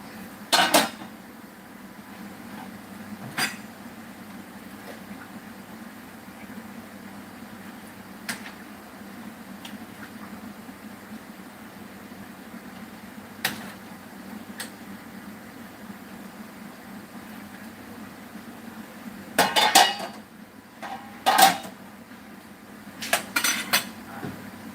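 Pots and utensils clink and clatter now and then while curry cooks in a small kitchen, against a low steady hum, with a few sharp metallic knocks near the end and no voices.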